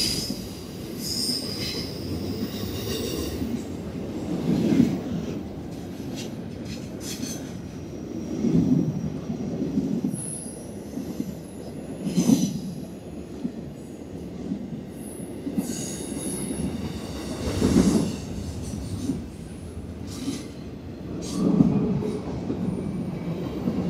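Intermodal freight train I-025 rolls southbound past Nortonville, Kentucky, a steady rumble of railcars with recurring wheel squeals and clatter, sustained and fairly close throughout.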